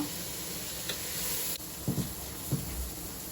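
Sliced onions fry in a pan for chicken biryani, giving a steady close sizzle with a few brief scrapes and stirring sounds over it, and no voices.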